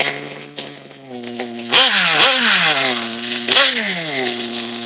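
A small engine on a triple B build idles with a buzzing tone, then revs sharply two or three times, each burst quickly falling back as the RPMs drop, loud and close.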